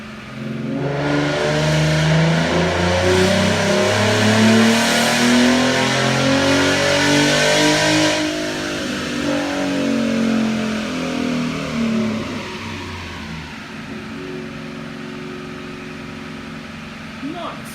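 A tuned 3.7-litre car engine with mild bolt-ons screams on a dyno run, its note climbing steadily through the gears to a loud peak, then cutting off and winding down toward idle, with voices around it.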